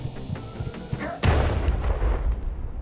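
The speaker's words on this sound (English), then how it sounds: "Oh, I got shot" A single gunshot in the video game Night in the Woods, a sharp loud crack that decays into a brief, echoing rumble, preceded by quieter rustling game sounds.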